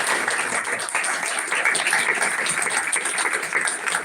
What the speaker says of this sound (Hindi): तो उनके लिए हाथ ताली देते हैं।